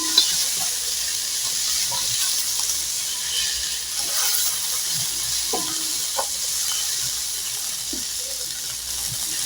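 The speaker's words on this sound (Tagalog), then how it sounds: "Lutuin muna natin ang mga ingredients, lalo na ang kamatis." Garlic, onion and tomato frying in a pan give a steady, steamy sizzle with scattered soft stirring taps and scrapes throughout.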